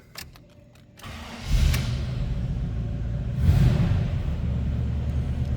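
A 1935 Chevrolet Master Deluxe street rod cranks and fires, clicks and a brief starter whir giving way to a loud engine catching with a surge, then settling into a steady close idle rumble.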